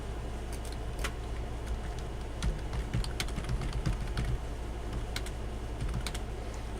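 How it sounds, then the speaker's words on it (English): Fast, uneven typing on a computer keyboard during a studio audio session, close-up clicking of keys continuing for several seconds over a low steady hum. "Let me go type that in"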